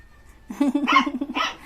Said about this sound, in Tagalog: Dinadaan sa tahol.